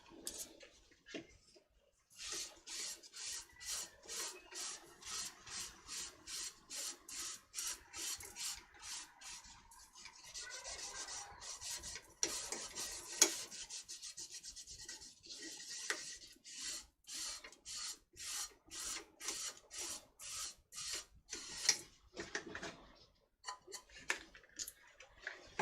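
Sanding sealer is worked onto a spinning wooden piece on a lathe, giving a long run of quiet, rhythmic rubbing and rasping strokes that pause briefly now and then before picking up again.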